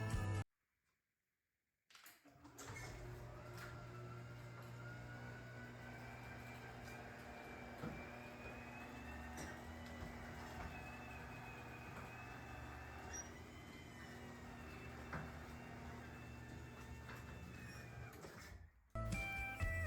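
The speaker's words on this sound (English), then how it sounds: "First of all, it is very quiet when opening and closing the doors." A newly installed garage door runs smoothly and quietly for a long stretch, a steady low mechanical hum with faint rolling and whirring, starting after a brief silence and ending with a soft stop.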